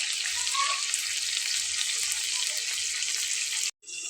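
Mustard fish paturi wrapped in bottle gourd leaves fries in oil with a steady close hissing sizzle that stops sharply for a moment near the end, then resumes.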